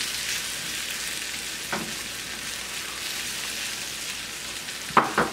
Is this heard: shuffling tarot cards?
no